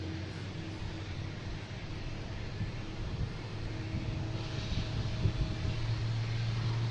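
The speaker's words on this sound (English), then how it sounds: "we have a Delta coming in from Las Vegas. 757, flight 430." A Delta Boeing 757 airliner approaching Boston Logan airport makes a faint, distant, steady roar mixed with wind noise outdoors.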